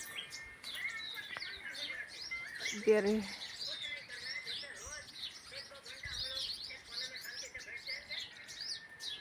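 Sparrows chirp and twitter in thin, quick bursts throughout, a steady busy chorus close by in an outdoor morning setting, with someone speaking briefly over the birdsong.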